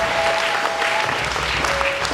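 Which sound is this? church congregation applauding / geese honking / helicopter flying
church congregation applauding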